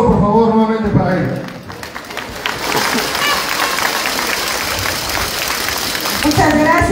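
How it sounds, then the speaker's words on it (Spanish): A crowd at a municipal party committee swearing-in ceremony applauds a federal deputy. Dense, loud clapping fills the middle of the clip, with voices talking over it at the start and end. "El aplauso, por favor, nuevamente para ella"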